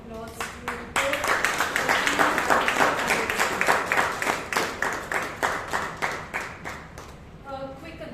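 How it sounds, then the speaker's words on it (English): A Toastmasters meeting audience gives a round of rapid, sustained clapping that fills the room and fades near the end. "Can we give a round of applause to both?"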